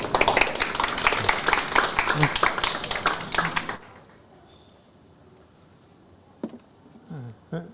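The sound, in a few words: audience applause welcoming a lecturer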